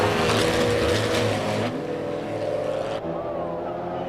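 Race cars roar past at an SCCA national road-racing championship, loud engines revving and shifting in a dense, overlapping pack before the sound abruptly drops away.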